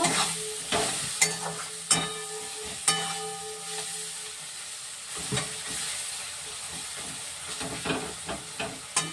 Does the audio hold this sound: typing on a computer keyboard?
no